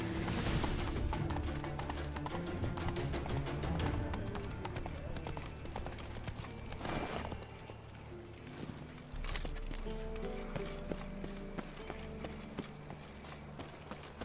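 Horse hooves galloping in The Witcher 3, a steady clip-clop of the mount running beneath a dense layer of game music and effects throughout.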